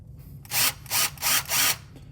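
A drill fitted with a Craftsman bit drives screws to tighten a door hinge. Four short, close, whirring bursts are separated by brief pauses, with no voices.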